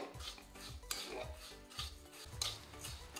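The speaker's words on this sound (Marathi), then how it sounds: "ही साखर आपल्याला अशीच गरम कढईत फक्त कंटिन्यू परतत राहायची आहे." Sugar stirred and scraped with a metal spoon in a hot dry kadhai, giving repeated close scraping and clinking strokes in a steady rhythm, with no talking.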